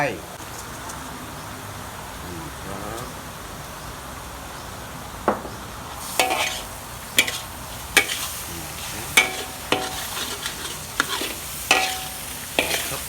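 Sunflower sprouts stir-fried in a pan with oyster sauce give a steady close sizzle, joined after a few seconds by a spatula scraping and clinking against the pan in irregular strokes, with no talk over it.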